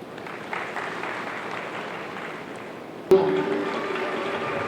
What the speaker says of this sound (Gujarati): એકવાર તાળીઓનો જોરદાર ગગડાટ થઈ જાય